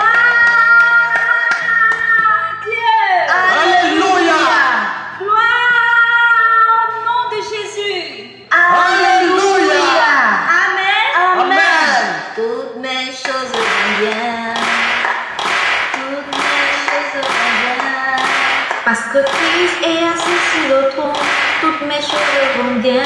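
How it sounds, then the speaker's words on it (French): Rhythmic hand clapping from a church congregation keeps time under loud singing voices and worship music, steady and continuous. "Applaudissons tous ensemble pour le Seigneur."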